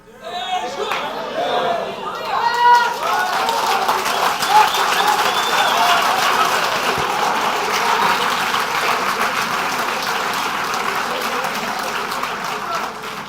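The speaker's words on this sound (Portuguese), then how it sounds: "não aplaude muito não, que você sabe onde vai parar isso" A church congregation applauds during a sermon, sustained dense clapping that swells after the first couple of seconds and holds steady throughout, with crowd voices mixed in.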